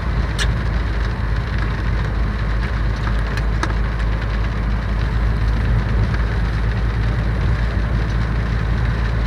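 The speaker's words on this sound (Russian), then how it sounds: "Дождь не перестает у нас," Heavy rain drumming on a moving car during a drive through Belarus, heard from inside the cabin as a dense constant hiss and patter over low road rumble, loud and unbroken throughout.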